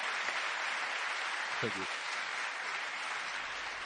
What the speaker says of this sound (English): Put your hands together for Zlatan and Sergio.